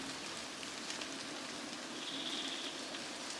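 Steady rain patters down on a surface, a continuous soft hiss with no voices, fairly close and even throughout.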